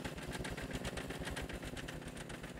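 Two large truck engines in the video game Scrap Mechanic labour under heavy load, a steady rough mid-pitched drone with fast pulsing chug, continuous and fairly close with no talk.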